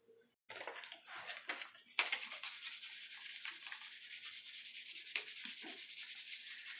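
Kinesiology tape being rubbed briskly over skin at the biceps tendon to activate its adhesive, a steady rhythmic scratchy friction that starts in short strokes and settles into fast continuous rubbing, close and clear.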